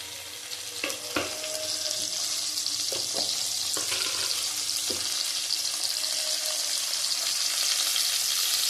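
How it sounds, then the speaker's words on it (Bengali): Two tomatoes sizzle in a hot pan of oil for a curry, a steady loud frying hiss with a few sharp crackles and clinks of a spoon near the start. "মশলার আগে আমি টমেটোটা দেবো। টমেটো দিয়ে দিলাম দুটো।"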